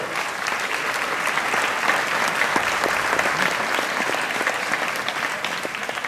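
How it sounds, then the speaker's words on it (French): A concert audience applauds an orchestra, a dense, steady wash of many hands clapping that stays strong and even for several seconds. "Bravo! J'applaudis. Bravo!"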